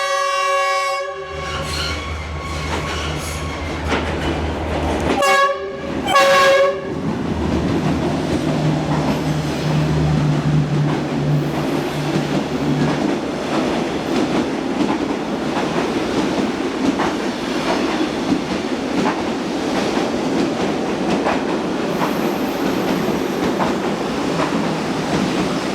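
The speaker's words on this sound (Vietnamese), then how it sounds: "đoàn tàu SE7 đang vào ga trên đường sắt số 1" The SE7 passenger train rolls into a station on Vietnam's railway. A loud horn blast sounds, a brief break follows, and then a long, steady rumble and clatter of wheels on rails continues close by.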